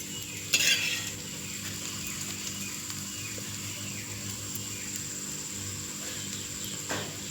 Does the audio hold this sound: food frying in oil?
yes